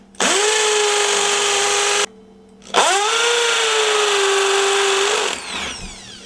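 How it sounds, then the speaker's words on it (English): A power drill bores holes into a door frame during a rotten entrance door repair. Two loud, close bursts of whining motor rise in pitch under load, separated by a short pause. "I'm going to drill some holes in here and anchor this down."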